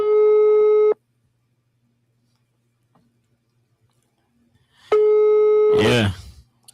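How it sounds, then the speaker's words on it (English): Telephone call tones from a phone line: a steady electronic beep tone, a long silent gap, then the tone again, cut off by a short burst of voice at the end. "the first person's phone is ringing"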